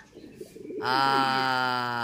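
A racing pigeon coos in soft, low throaty burbles close by, followed by a sustained, louder tonal drone that continues to the end.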